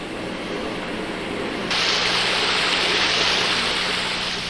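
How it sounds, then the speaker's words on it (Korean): Artificial indoor waterfall in a hospital, a steady broadband rush of falling water that grows louder partway through, continuous and close. "짧은 시간 병원의 인공 폭포 곁에 앉아 있었을 뿐이다"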